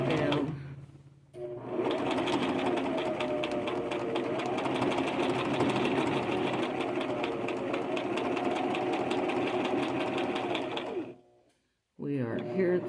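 A sewing machine stitches a purse in a steady, loud whirring run of about ten seconds, then stops briefly before starting again.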